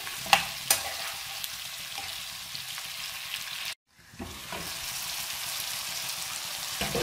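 Chicken karahi masala with garlic and tomatoes sizzles steadily in a hot pan while a spoon scrapes and stirs, with a few sharp clinks and one brief break in the frying.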